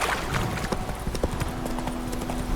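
Hooves of Roach, a horse in the video game The Witcher 3, clip-clopping in a steady repeated rhythm, close and clear over a faint game ambience, with a brief snort or whinny-like breath.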